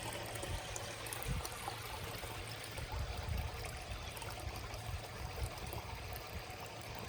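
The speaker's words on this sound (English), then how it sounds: "This little thing is a little water feature as well." Water trickles steadily in a small bucket water feature in a home garden, a soft continuous babbling flow with a few faint low knocks, heard alone without speech.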